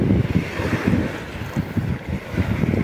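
Steady wind buffets the microphone at sea during an ajing fishing session near the shore, a continuous low rumbling roar with gusty pulses over moderate waves, no voices.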